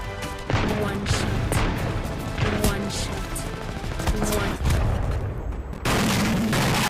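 Wingman revolver-style pistol from Titanfall 2 and Apex Legends fires a string of heavy, booming single shots at an even, deliberate pace, each loud and close with a sharp crack and brief tail, amid busy game noise.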